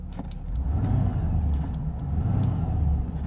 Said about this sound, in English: Car revs real nicely.